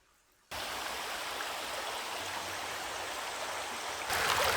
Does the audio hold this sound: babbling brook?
yes